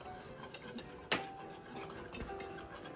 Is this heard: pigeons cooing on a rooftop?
no